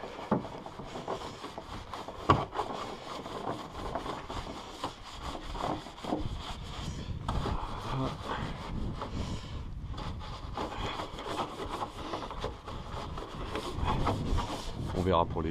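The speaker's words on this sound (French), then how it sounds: "On va commencer à nettoyer en frottant tous les éléments." A brush scrubs a Toyota Prius engine with black soap in steady, rough back-and-forth rubbing strokes, close and continuous, with occasional knocks and faint talk.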